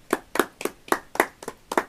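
Hands clap sharply to welcome a guest in a village comedy sketch, about eight crisp, evenly spaced claps in close succession from a small group.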